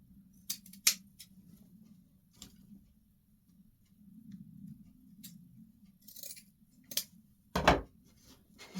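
Scissors snip ribbon scraps for bows in a few short, sharp cuts scattered across a quiet room, with faint rustling between the clicks.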